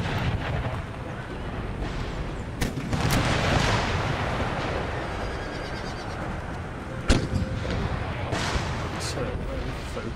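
Cannons fire round shot during a siege assault in Afghanistan in the Empire: Total War video game, sending several sharp booms over a rumbling battle background, with one louder blast standing out.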